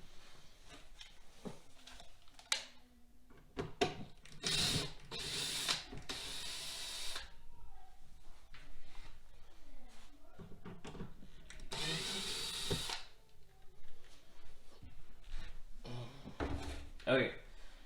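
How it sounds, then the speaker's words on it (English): Old screws being worked out of wood with a hand tool, intermittent scraping and ratcheting turns in short uneven bursts, fairly close, with a person speaking between them. "First thing to do is take out the old screws and then clean out the hole."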